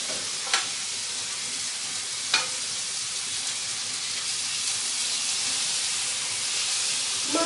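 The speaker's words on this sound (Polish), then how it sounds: "Masło się rozpuszcza pod wpływem temperatury." Butter melts in a hot frying pan with a steady, fairly loud hissing sizzle, broken by a couple of brief utensil taps near the start and heard up close with no voices.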